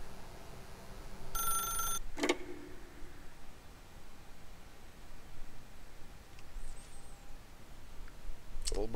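An old-style telephone bell rings in short bursts within the video game The Stanley Parable, clear and close against a low background hiss, with a click after the ringing stops and another burst at the end.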